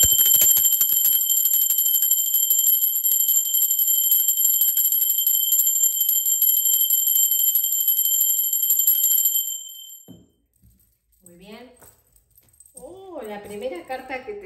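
A bell rings in one steady, sustained peal for about nine seconds, then stops abruptly. A voice follows, speaking softly.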